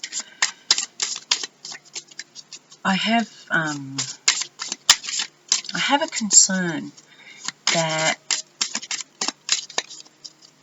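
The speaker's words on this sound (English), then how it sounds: "shuffling the way I do" Tarot cards shuffled by hand for a reading, a rapid run of crisp riffling flicks and taps, close up, with someone talking intermittently over the shuffling.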